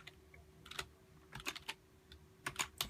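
Quiet bursts of typing on a computer keyboard, irregular clusters of light key clicks with pauses between them, heard alone without speech.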